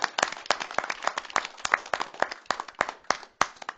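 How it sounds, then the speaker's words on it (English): Scattered hands clap at a town council meeting to honor a long-serving employee, a modest round of sharp, distinct claps from a small group that runs steadily and then thins out. "Give him a round of applause."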